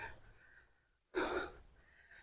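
Heavy, breathy panting from a person worn out after hoeing very hard soil by hand, a few faint breaths, then one loud gasping exhale near the middle, followed by quieter breathing.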